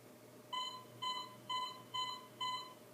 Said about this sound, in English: So when the timer goes off, it lets me know and it makes that noise